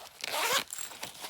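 A small zipper pouch inside a travel bag compartment is unzipped in a few quick, close raspy pulls, loud and clear with no talk.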